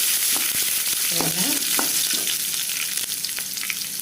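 Steady, loud sizzling of finely chopped garlic frying in a hot pan, with a few soft clinks and stirring sounds on top.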